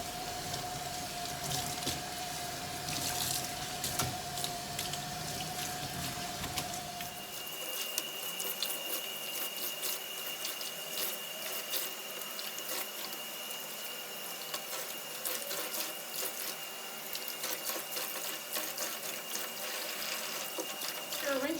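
Tap water runs steadily into a sink while hair is rinsed, a continuous close splashing flow that shifts in tone partway through as the stream changes, with no talking.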